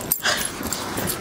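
A young puppy gives a few soft whimpers and yips, fairly quiet and close, in a brief burst over a faint background hiss.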